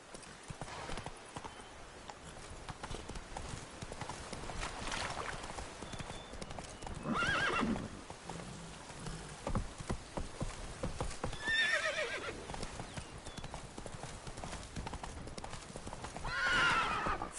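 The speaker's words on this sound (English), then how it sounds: "Run, Roach" A horse in a video game gallops with rhythmic clip-clopping hooves and lets out several whinnies, sounding fairly close against a continuous game backdrop.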